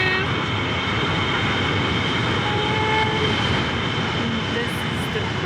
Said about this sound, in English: Trains passing through.